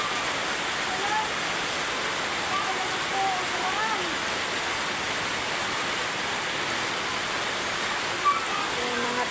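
Flood water rushes steadily in a dense, unbroken roar, loud and close, with no pauses and only a faint bump near the end.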